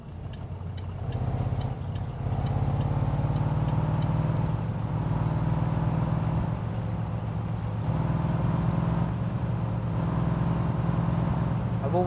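A car in the driving game My Summer Car drones steadily with a low engine hum and road noise for about twelve seconds, close and continuous, with faint clicks above.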